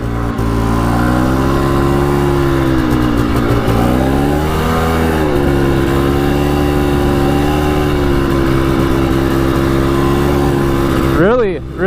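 Quad ATV engine fitted with a cheap top-end piston and cylinder kit, held steady around half throttle with a loud, close, continuous drone and small dips in pitch, cutting off abruptly at the end.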